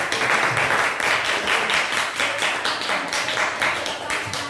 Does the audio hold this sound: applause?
yes